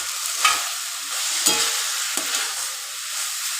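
Chopped tomato dropped into a pan of frying potato and chickpea curry, a loud continuous sizzle with a few sharper bursts and stirring scrapes as the pieces hit the hot oil, close and without talk.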